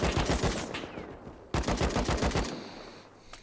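Gunfire in the Rust survival game, fired in two sustained, loud, rapid bursts of sharp shots with a brief break between them and no voices.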